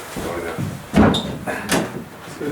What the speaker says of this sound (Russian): дергаем за эту пыпочку, и дверь, дверь открывается